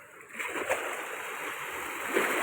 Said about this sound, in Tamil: பார்க்கவே ரொம்ப அழகாக இருக்குது பாருங்கள் எவ்வளோ தண்ணி போகுது பாருங்கள்